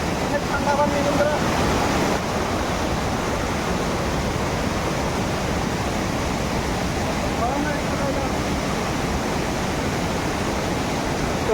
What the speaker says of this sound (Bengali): দেখেন এইখানে দেখেন বহুত উপরে থেকে পানি নামছে